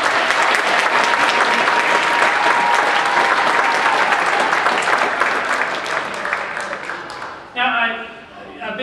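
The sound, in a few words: audience applause at band concert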